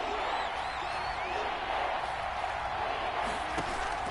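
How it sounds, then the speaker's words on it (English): Stadium crowd in a PS4 American football video game before a big third down, roaring in a steady, unbroken wash of noise with a few whistles rising out of it, at moderate level. "The crowd getting into it as we come up on a big third down."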